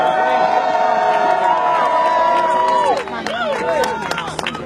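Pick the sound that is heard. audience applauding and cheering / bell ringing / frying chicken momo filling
audience applauding and cheering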